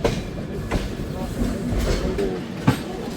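Rumble and rhythmic clatter of a train arriving at Dhuri Junction railway station at close range, with a sharp clank toward the end and faint voices underneath.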